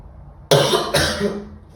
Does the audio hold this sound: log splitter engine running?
no